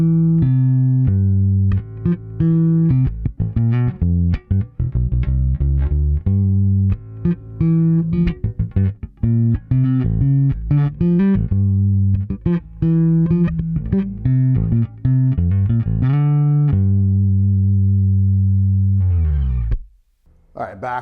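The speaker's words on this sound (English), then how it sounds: "We're gonna go a little bit higher up the neck, and it's always interesting to hear some of the tonal variation, even just within the bass" A Fender Player II Precision Bass with a rosewood fretboard is played higher up the neck. A loud, close run of plucked notes and sustained tones goes on almost continuously and settles into a long held note before fading at the end.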